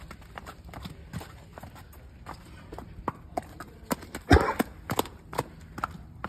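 Horse hooves clip-clop on concrete in an irregular series of sharp, fairly close knocks, with one louder clatter partway through and a faint voice in the background.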